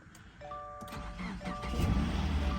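A $600 salvage-auction Mercedes engine cranks and catches, its mid-pitched running rumble building steadily while a chime sounds from the dashboard, heard close inside the car.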